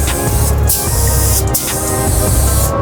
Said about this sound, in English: Same red, freshly laid, keep the gun moving and the coat even.